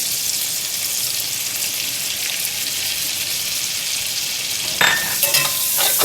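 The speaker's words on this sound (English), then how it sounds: "Give that a quick mix." A spoonful of cayenne pepper is stirred into a pan sizzling for Cajun steak tips. The frying hiss is continuous and close, with a few sharper stirring scrapes near the end and no speech.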